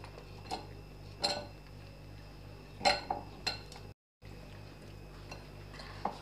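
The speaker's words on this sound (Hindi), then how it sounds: "और अब हम ये सारे आलू जो कि हमने स्लाइसेस में काटे हुए हैं इसमें शामिल कर देंगे।" Sliced potatoes go into a pot of ground garlic and ginger for a spicy potato curry, making a few soft, scattered clinks and clatters that are quiet and close, with no voices.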